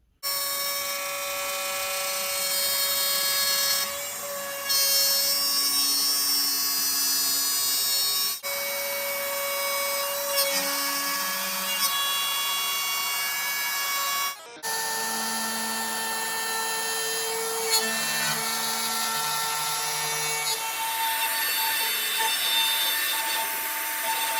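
A whining power tool runs almost continuously, cutting and drilling wood in long passes with a few brief stops between them, cutting handle pockets and hinge notches and drilling magnet holes for a wooden fly fishing box.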